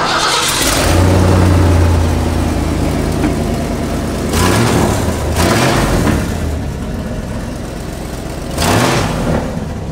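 A loud straight-piped truck engine with the muffler removed roars and revs in repeated bursts, rough and throaty between surges, close by with no talking.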